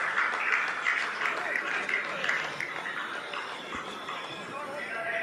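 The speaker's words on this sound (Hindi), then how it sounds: "आप इस तालियों के गड़गड़ाहट को सुन सकते हैं," Scientists applauding in a mission control room during the Chandrayaan-3 lunar landing, a broad rolling wash of clapping heard fairly faintly and steadily.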